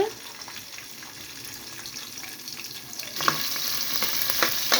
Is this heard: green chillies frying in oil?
yes